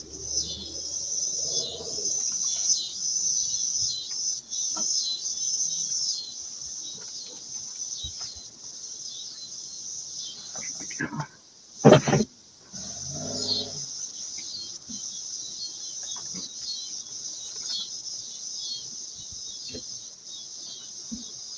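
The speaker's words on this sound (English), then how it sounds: "Now I can totally hear that it is cicadas." Cicadas drone outdoors in a steady, high buzzing chorus that runs the whole time at moderate volume, briefly interrupted by a louder clunk partway through.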